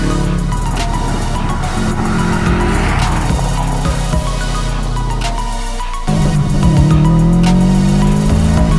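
A Subaru STi, a 50th anniversary edition, is driven hard, its engine roaring steadily with tire squeal and shifting pitch, then a sudden change in engine note partway through as it keeps accelerating loudly.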